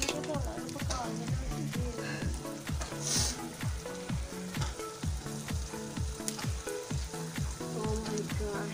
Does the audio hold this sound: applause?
no